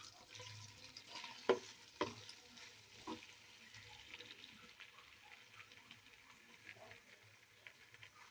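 Onions and chicken for shaljam gosht fry quietly in a pot, a soft, low sizzle with a few sharp clinks and scrapes of stirring near the start, no voices present.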